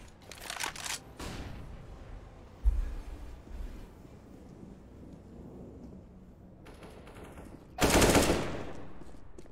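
Gunfire in CS:GO sounds in short, sharp bursts during a competitive esports match, with a crisp volley at the start and a louder close burst near the end over low background noise.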